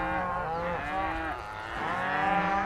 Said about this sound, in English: We're moving cows up on the Lewis and Clark National Forest.